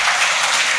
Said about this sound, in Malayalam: എന്താ കൈയടിക്കുന്നു.